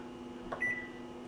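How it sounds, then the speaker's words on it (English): A kitchen microwave oven gets set to melt chocolate and gives a short electronic beep. A soft hum runs underneath and a small clunk comes just before the beep. "we're gonna go ahead and put this in the microwave"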